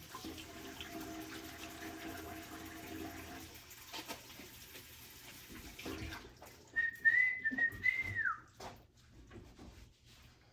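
Hands washed under a running kitchen tap, a steady splash of flowing water that eases off midway, followed by a brief high whistle and some louder splashing near the end.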